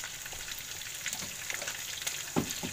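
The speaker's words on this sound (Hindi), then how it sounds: "अब हम इन सबको अच्छे से मिलाएंगे, भूनेंगे" Butter chicken masala frying and being stirred in a pan, a soft continuous sizzle with light scraping strokes and a slightly sharper clink toward the end.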